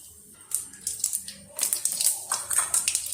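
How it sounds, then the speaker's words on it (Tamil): Mustard seeds splutter and pop in hot oil in a pan while cooking prawn thokku, a rapid burst of crackling, sizzling snaps close up, starting sparse and growing denser, with no talk. "கடுகு பொரிஞ்சிச்சு."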